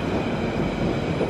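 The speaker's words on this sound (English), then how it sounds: "That's a tube train." A London Underground tube train rumbles past at Ealing Broadway, a continuous dense roar of wheels and motors, loud and close, with no voices.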